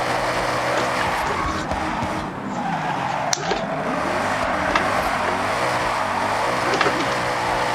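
A 700HP Mustang drift car in the racing game Forza Horizon holds a continuous tire squeal over a loud, steady engine roar as it slides. The sound is dense and sustained, with a few sharp clicks.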